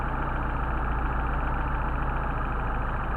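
A Mercedes 190SL engine with Solex 44PHH carburetors idles at around 700 RPM as the mixture screw is turned, a steady close-up pulsing drone with an even, rapid beat and no talk.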